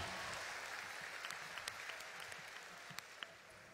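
An audience at a Myanmar Idol Season 3 jazz week show breaks into applause, dense clapping with a few louder distinct claps poking out, heard at a distance and fairly faint.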